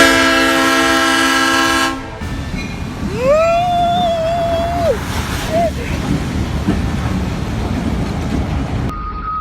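A Norfolk Southern train at a grade crossing, its horn sounding a long sustained blast amid the rumble of the crossing collision with a semi-truck hauling concrete beams, noisy and broadband throughout, preceded by a steady electronic tone.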